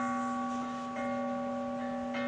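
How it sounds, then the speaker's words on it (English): A wake-up bell rings with a sustained, clear tone that hums steadily and fades slowly, with a faint second strike near the end and no talk. "You hear the bell? It's like, wake up! That's the wake up bell."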